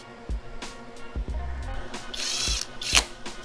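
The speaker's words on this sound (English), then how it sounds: "Snug it up with our impact" An impact driver snugs up the screen mounting bolts on an EGO mini bike in several short, close rattling bursts with brief pauses between them.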